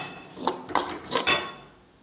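A utensil clinks against a metal pot about four times while fried coconut is scooped into it for a fish curry, close and fairly quiet, with a little scraping between knocks and no talking.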